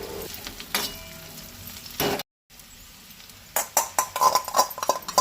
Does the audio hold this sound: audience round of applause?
no